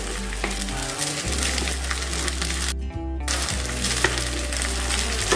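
Cooked rice is stirred and fried with tomatoes in a pan, a loud continuous sizzle with spatula scrapes and a brief dropout partway through, no voices.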